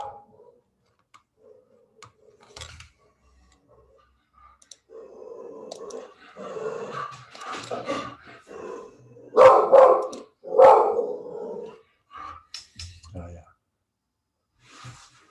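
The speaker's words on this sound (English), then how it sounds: "my dog is barking, as you can hear" Speech runs throughout, and a dog barks several times in the background, with a short cluster of louder barks toward the middle and other sharp clicks scattered around.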